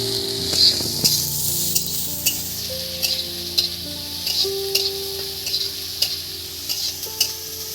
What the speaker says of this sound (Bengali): এবার দিয়ে দিচ্ছি কুচি কুচি করা পেঁয়াজ।